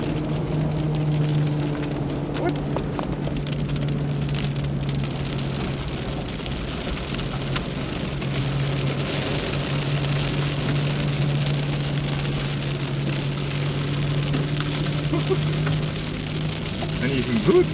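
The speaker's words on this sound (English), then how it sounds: "Oh, it starts to rain." Steady rain patters across a surface, a dense continuous hiss with a low hum running underneath and some faint talk mixed in.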